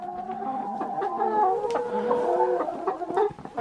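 Several chickens cluck and murmur nearby in overlapping, chattering calls, with a few sharper squawks mixed in.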